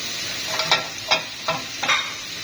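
Ginger sizzles in a couple of spoonfuls of oil in a pan, with a steady soft frying hiss and about four brief stirring scrapes at a quiet, close level.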